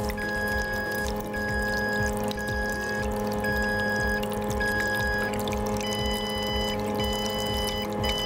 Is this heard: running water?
yes